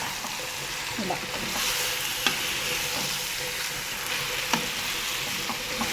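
Chicken masala frying and sizzling steadily in a pan, with occasional stirring scrapes and clicks over the constant close hiss, while a voice speaks briefly.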